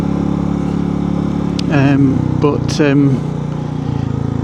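A Royal Enfield Bullet 350 motorcycle engine on a ride gives a steady, close, low thumping drone throughout, while a person talks over it.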